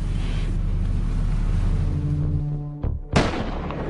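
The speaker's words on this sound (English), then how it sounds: "They fire in perfect synchronization." Sniper rifles firing in a covert SEAL rescue at sea against Somali pirates: loud low rumble and drone, then one sharp crack near the end, close and forceful.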